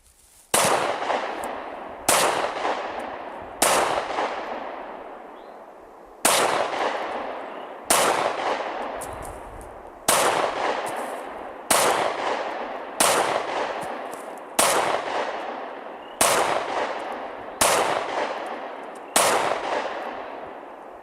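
A SIG P365 pistol fires about a dozen single shots at bowling pins from roughly 10 yards, each sharp crack ringing out and decaying before the next, spaced irregularly one to two seconds apart, loud and outdoors with no talk.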